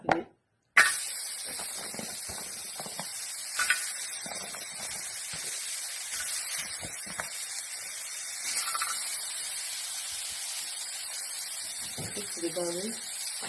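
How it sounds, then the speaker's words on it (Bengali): Dried fish (shutki) hits hot oil in a pan with a sudden loud hiss, then keeps up a steady crackling sizzle for over ten seconds. "এখন শুটকিগুলো ভাজবো"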